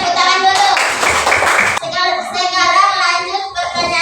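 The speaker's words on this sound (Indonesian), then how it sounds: "Kasih tepuk tangan dulu." Children in a classroom clap their hands together for a classmate's answer, a dense burst of claps overlapping with children's voices, then talking takes over.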